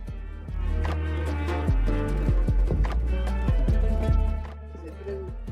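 Horse hooves clip-clop on a tour near Baku, Azerbaijan, a steady run of sharp hoof strikes over about four seconds, fairly close, with voices talking over them.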